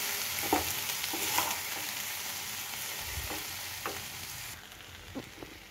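Spiced vegetables and rice with a little water sizzle in a pan as a spoon stirs, a constant frying hiss punctuated by soft scraping taps, the sizzle easing slightly toward the end.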